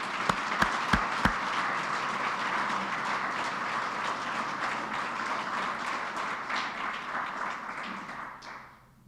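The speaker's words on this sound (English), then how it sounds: "Let's give him a round of applause." An awards ceremony audience for a statewide high school coding competition gives a round of applause, a few sharp claps at the start, then sustained, even clapping that fades out at the end.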